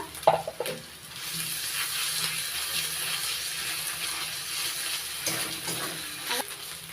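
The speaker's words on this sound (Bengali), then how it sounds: "পেঁয়াজ রসুনের সঙ্গে আদাটা ভেজে নিয়ে" Onion, garlic and ginger paste frying in a pan during a village-style prawn and taro leaf recipe, a soft steady sizzle with a few faint clinks near the start.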